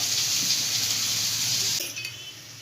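Water pours into a small container holding garlic and green chillies for a paste, a steady splashing gush that tapers off near the end with a faint clink.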